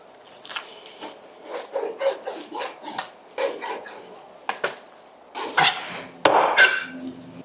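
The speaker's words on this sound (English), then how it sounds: "slice through all of them at once" A knife slices through a stack of thin steak slices on a cutting board, giving a series of close, uneven chopping knocks followed by a few louder board taps.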